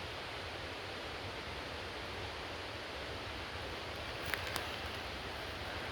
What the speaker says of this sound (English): I made my way towards the main creek.